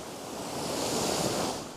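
Ocean surf washes steadily along the Tamil Nadu coast, a broad, soft hiss of breaking waves heard at a distance, quiet and unbroken with no voices.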